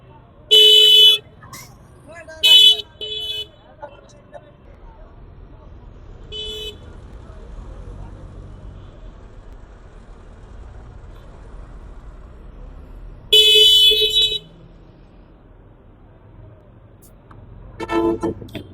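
Traffic jam at Gulistan in Dhaka at night: loud car and bus horns honk in short bursts near the start, around 2.5 seconds and again at 13 seconds, over a steady low rumble of idling vehicles, with a voice talking at times.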